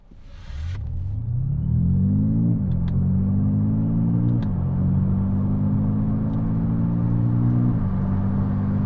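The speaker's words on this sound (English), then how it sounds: "I'm going to do a quick 0 to 60, which is 10 seconds apparently" A Honda Super N kei car accelerating hard from a standstill to 60, its small engine droning loudly and rising in pitch through each gear, with brief dips at three gear changes, heard close from inside the cabin.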